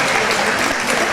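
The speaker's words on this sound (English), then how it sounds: "Can we just give her a big round of applause right now?" A brief burst of dense audience applause at a 2019 Texas community event, loud and continuous with no voices over it.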